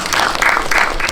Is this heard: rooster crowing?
no